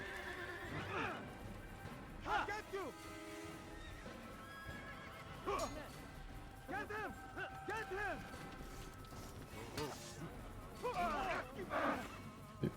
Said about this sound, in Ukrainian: Да ну залазь на коня